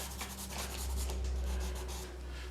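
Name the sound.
rubbing turquoise pastel in to blend it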